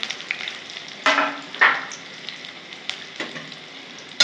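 Onion, garlic and chillies fry in a pan with a continuous close crackling sizzle, punctuated by a few sharper bursts and scraping stirs.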